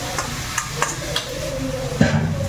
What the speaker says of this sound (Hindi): हूँ सब्जी, अच्छे से भून लूँगी